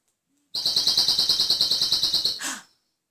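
A bird call whistle chirps in a rapid, even series of about fifteen bright tweets, close and loud, ending with a short squeak.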